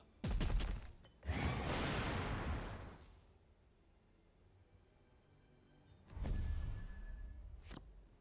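Cannon fire in the Warpforge video game, two loud booming blasts with rumbling tails separated by a quiet gap.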